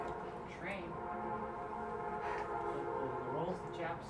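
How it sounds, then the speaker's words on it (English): A job-site train rolls past with a steady low rumble and drawn-out tonal, horn-like notes rising and falling over the noise. "Rolls the job site train."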